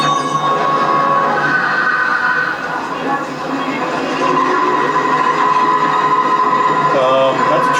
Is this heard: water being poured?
no